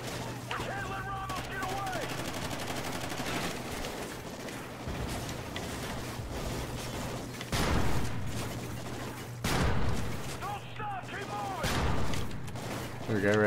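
Enemies fire guns in the Call of Duty Ghosts shooter, with bursts and volleys of gunfire over a steady hum. A few sharp louder shots punch through, and a voice speaks intermittently.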